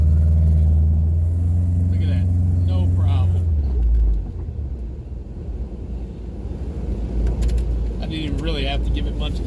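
A Honda CR-V pushing through snow after a blizzard, with low engine rumble and droning tones that drop as the revs change, some rattling and scraping bursts, and someone talking at intervals.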